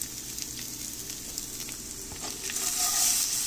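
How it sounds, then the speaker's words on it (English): Seasoned bread pieces toasting in a pan over a high flame give off a steady, close sizzle and crackle that swells slightly louder toward the end. "Now toast them on a high flame to get that nice smoky charred flavor to it."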